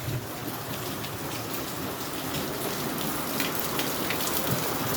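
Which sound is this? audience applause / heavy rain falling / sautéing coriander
heavy rain falling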